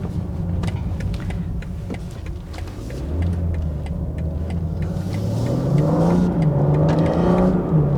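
A BMW M3 Competition's petrol engine pulls hard under acceleration, a rising rumbling growl climbing steadily in pitch and loudness over several seconds, close and continuous with a few ticking transients.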